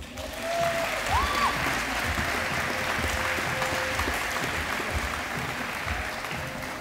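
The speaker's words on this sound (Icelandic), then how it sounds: "Gefum Andra gott klapp." An audience at a 2018 sports awards ceremony in Akranes, Iceland, applauds an honored footballer with steady, even clapping throughout, heard at moderate distance in a large hall, with a faint tonal whine running underneath.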